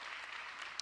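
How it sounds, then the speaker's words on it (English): An audience applauds at Philadelphia Mayor Cherelle Parker's State of the City address: a brief, even burst of massed clapping at moderate loudness, lasting under a second. "Give our economic opportunity team a round of applause."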